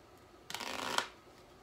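Playing cards being riffle shuffled in a false shuffle that keeps the top card in place: one quick, close, crisp flutter lasting about half a second, with no talk.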